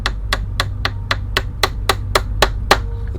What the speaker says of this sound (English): nailing in with a hammer